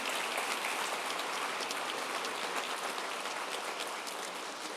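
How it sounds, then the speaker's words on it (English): Graduation crowd at a collegiate high school ceremony in Arlington applauding, a dense, hissing wash of many hands clapping continuously at even loudness throughout. "So would you give them a round of applause?"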